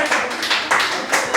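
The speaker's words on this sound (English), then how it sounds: "I would clap louder, but my gloves are in the way." Several muffled, soft claps from gloved hands in a quick uneven rhythm, dull and padded rather than sharp, close by.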